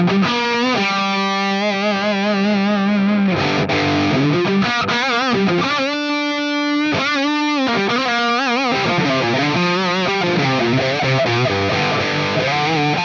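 Electric guitar runs through an Axe Fx Soldano amp model at stock settings, giving a loud, distorted, sustained lead line of held notes and quick runs that fills the whole stretch without pause.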